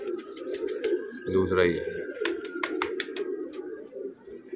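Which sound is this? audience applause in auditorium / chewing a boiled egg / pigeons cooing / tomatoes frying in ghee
pigeons cooing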